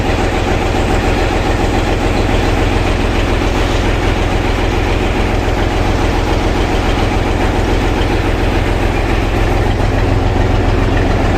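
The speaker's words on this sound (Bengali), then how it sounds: "পিছনে রয়েছে ইঞ্জিন রুম" A passenger launch engine runs close by from its rear engine room, with a loud, steady, rhythmic thrum and knocking, unchanging from start to finish.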